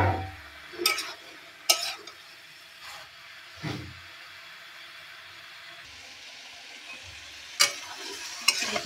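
Vegetables sauté in a pan with a soft, constant sizzle, punctuated by several sharp scraping stirs and clinks of a utensil spaced irregularly, close and moderately loud with no voices.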